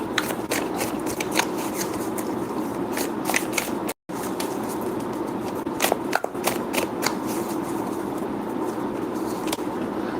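Tarot cards shuffled and drawn by hand for a love-life reading, a run of close papery riffles, flicks and soft slaps repeating unevenly over a low background hum, with one brief dropout.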